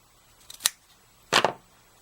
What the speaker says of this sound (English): I like to cut the ribbon to a point